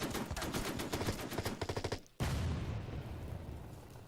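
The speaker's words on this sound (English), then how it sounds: "I was hoping I could shoot him with the artillery." Video game artillery fire in a sandstorm battle, a rapid series of loud booming shots, a brief cut to silence, then a heavy rumbling blast that trails off.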